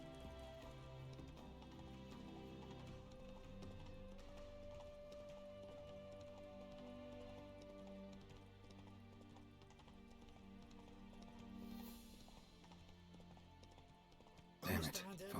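The horse Roach gallops in the Witcher 3 video game, its rapid hoofbeats running steadily under a game soundtrack, with a sharp louder burst near the end.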